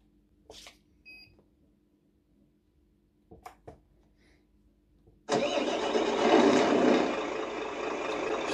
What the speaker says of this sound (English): So there is